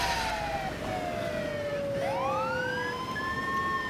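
Ambulance siren in the Roblox-style game City Life RPG 2, a wailing tone sweeping down then rising again, moderately distant and steady over a low background rumble.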